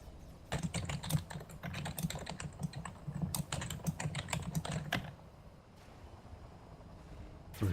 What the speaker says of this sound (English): We're hearing you type, Ronnie.